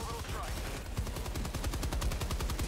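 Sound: Stalwart machine gun firing in Helldivers 2 video game

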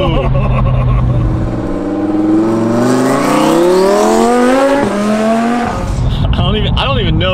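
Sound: new twin turbo Audi R8 accelerating

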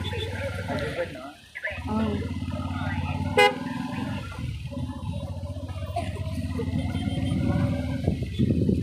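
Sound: traffic horns on the Manair dam road, Karimnagar

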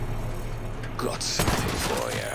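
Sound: gunshot in the video game Hard West 2

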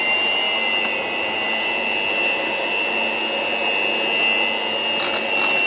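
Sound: electric mixer running at medium speed

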